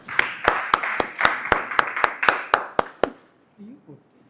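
A small audience at an impromptu speaking session claps in a sparse, rhythmic patter of roughly a dozen distinct claps that stops abruptly, followed by a brief murmur of talk.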